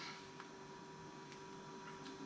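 A Dreame L10 Prime robot vacuum dries its mop with a faint, steady fan-like hum and a thin constant whine, with a few soft clicks over the top.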